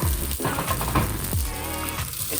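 Vegetarian Mexican chorizo and diced potato sizzling in a pan, a steady close frying hiss with a few stirring scrapes and clinks, no voices.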